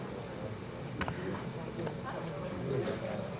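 Hooves of an American Saddlebred horse being exhibited clip-clop in an uneven rhythm on a hard surface, fairly faint, while a voice talks over them.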